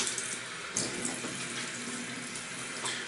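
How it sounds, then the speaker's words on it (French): Tap water runs steadily from a faucet into a sink while a shaving brush is rinsed during a traditional wet shave, a close, continuous broadband splashing hiss with a few small spatters and no talking. "Je rince ma brosse comme ça"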